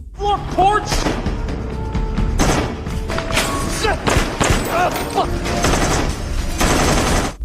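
Rapid bursts of gunfire crack and thump repeatedly in a battle during the Iraq invasion, dense and loud, with booming impacts scattered among the volleys and voices shouting amid the chaos.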